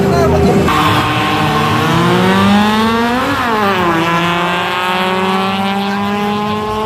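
A loud, roaring drag race engine revs and climbs in pitch, then settles into a steady high drone, with racing-car sound continuous throughout, at an air force base championship in Makassar.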